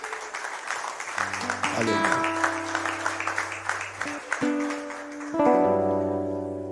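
Church congregation claps along during worship, with sustained organ or keyboard chords and voices singing over the steady applause, a loud full-room sound throughout.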